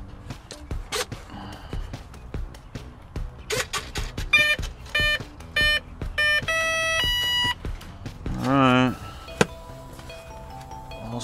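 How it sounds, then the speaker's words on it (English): An RC transmitter timer gives a series of short electronic beeps and longer tonal chirps as it is set, interspersed with handling clicks and rustles nearby. "I'm gonna set my timer for 4 minutes."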